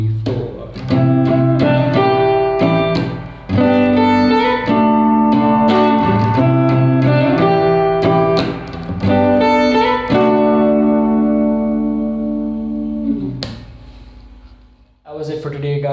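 Electric guitar plays the intro riff of a song at full tempo, a steady strummed chordal pattern that runs loud and continuous, with a brief pause near the end before a final strum.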